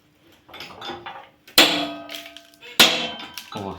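A 20-ton hydraulic shop press forces a 22 socket head into place, giving two sharp, loud metallic cracks about a second apart, each ringing briefly, with quieter shuffling handling noise between them.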